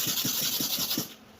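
A hair clipper blade is stroked back and forth across a sharpening surface in about four quick, evenly spaced rubbing passes, close up with a soft hiss, ending in a brief quiet moment.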